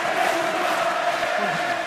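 A rugby crowd roars in Toulon's stadium during a TOP14 match against Clermont, a steady, dense wall of cheering and chanting voices.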